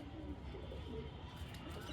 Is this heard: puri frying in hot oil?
no